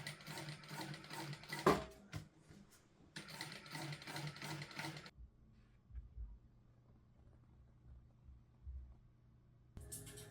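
Industrial sewing machine stitching upholstery for a chair restoration, running in two loud bursts of rapid mechanical stitching separated by pauses, then a quieter low hum before a final short burst.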